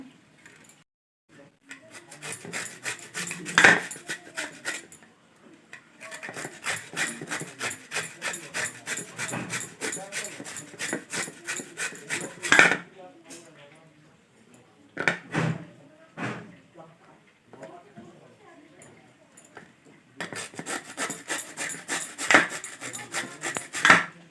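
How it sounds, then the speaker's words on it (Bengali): Radish being grated on a hand grater, giving bursts of rapid rasping scrapes close by, separated by pauses and a few sharp knocks. "এই যে গ্রেটার নিয়েছি, এবারে গ্রেট করে নেব।"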